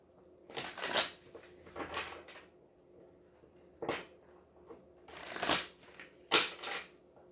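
Tarot cards being shuffled by hand, several soft separate riffling bursts close by and fairly quiet.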